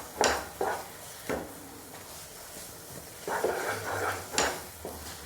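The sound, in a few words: stirring vrat burfi dough mixture in a kadai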